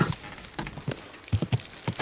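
Horse hooves clip-clop on the ground in the medieval video game Kingdom Come Deliverance II, a series of close, uneven hoofbeats in a slow walking rhythm, standing alone without speech.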